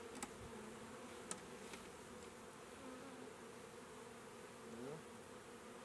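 A steady, low insect drone hums throughout, like many honey bees buzzing close by on a hive, with a few faint clicks and a brief rise near the end.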